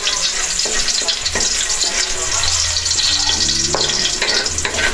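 Home-cooked food frying loudly in a pan, a steady dense sizzle with scraping stirring strokes and occasional clinks of the utensil, close and continuous throughout.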